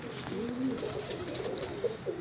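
Imamdeen Golden pigeons cooing in a loft, a continuous low, rolling coo from several birds at moderate distance, with a couple of faint higher chirps and light clicks near the end and no voices.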